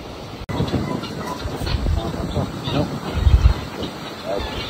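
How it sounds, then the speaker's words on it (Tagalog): Strong wind from Typhoon Uwan roars and buffets steadily across a farm for several seconds, surging in gusts, with a faint voice now and then underneath. "malakas pa po yung hangin dito mga idol."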